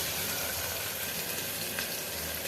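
Tomato pieces fry in a pan with a constant, even hissing sizzle, close and moderately loud throughout with no talking.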